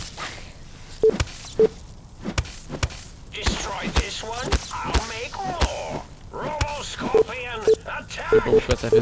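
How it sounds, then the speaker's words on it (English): Electronic beeping from the video game Fallout New Vegas, short tonal bleeps recurring in irregular clusters among game effects and sharp transient hits, with a voice talking over much of it. "Ça fait des bip bip bip dans mon ordi"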